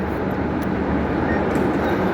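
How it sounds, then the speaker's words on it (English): A Belgrave line train rumbles past with a broad, steady roar, loud and close, with no voice over the passing noise. "that's a Belgrade train right there"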